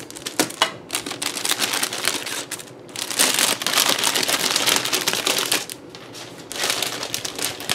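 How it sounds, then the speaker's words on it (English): Plastic packaging from a scrapbook supply purchase being handled, bursts of crisp crinkling and crackling close up in uneven waves with brief pauses between. "I do apologize for all the crinkling."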